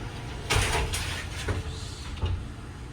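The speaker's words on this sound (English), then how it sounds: "Does have a walk-in shower. Sliding doors." Sliding doors on the walk-in shower of a 2024 Forest River Sierra 3990FL fifth-wheel RV roll and bump along their track in a few close, scraping movements.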